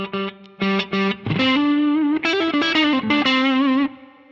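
An electric guitar runs through a Way Huge Red Llama overdrive with the drive turned up, ringing out a few short repeated chords before sustained, bending lead notes, loud and alone with no talking.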